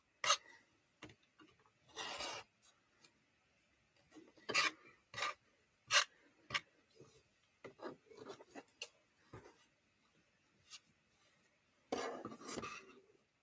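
Quilt fabric block being trimmed, giving a series of short scraping cuts and rasps in irregular bursts, some louder and clustered, with quiet gaps between and no talk.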